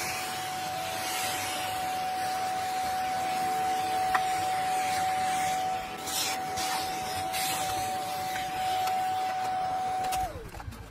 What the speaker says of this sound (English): put your dust attachment on to your vacuum cleaner and go over the entire radiator with your vacuum